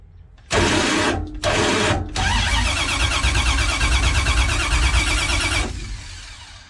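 A Dodge Charger engine cranks over in two short bursts, then catches and runs steadily at a rough idle, loud and close, before cutting off.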